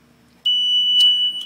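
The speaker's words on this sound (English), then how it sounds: "I can do nothing until I clear up that alarm" Alarm on a door control system: after a brief quiet moment, a loud, steady high-pitched electronic beep sounds close by and holds continuously, with slight pulses in its strength.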